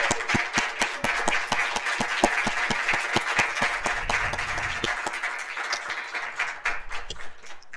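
An audience at a closing session of a food-standards panel breaks into a sustained round of applause, dense overlapping claps that hold steady for several seconds before thinning out and fading.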